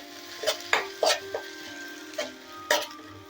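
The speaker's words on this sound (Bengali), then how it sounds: "এবার আমি অ্যাড করে দিচ্ছি টমেটোর পেস্ট। এটা এবার সুন্দর করে নাড়াচাড়া করব।" Tomato paste stirred into onions in a pan for Bengali aloo dum, with soft sizzling and a string of distinct scraping, clinking strokes of a spoon against the pan at an uneven rhythm, fairly quiet and close.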